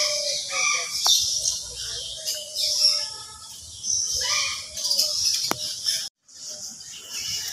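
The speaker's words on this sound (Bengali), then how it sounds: "এই দেখেন কত বড় পাখি।" Birds chirp and call repeatedly at moderate distance, with sharp high notes and a few squawky calls over a quiet background.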